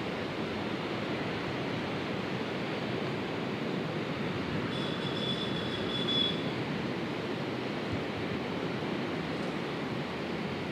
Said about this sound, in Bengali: সমুদ্র।